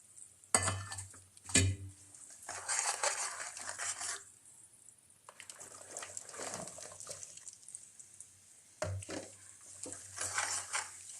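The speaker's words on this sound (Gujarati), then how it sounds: "આપણે આ લાલ મરચાંને સરખી રીતે થોડોક તેલમાં જડી જાય ને એ રીતના મિક્સ કરી લેવાના છે" Red chillies being mixed into oil in a pan over a low flame for a sweet-and-sour red chilli pickle: intermittent scraping and clinking stirring bursts, close and moderately loud, separated by quiet gaps, with no talking.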